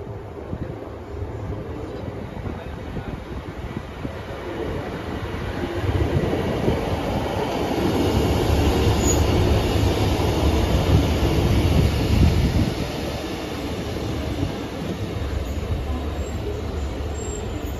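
A Transport for Wales Class 150 diesel multiple unit pulls into a station, its steady engine drone and rolling wheels swelling as it nears, with faint rail squeal, continuous and loud, no voices.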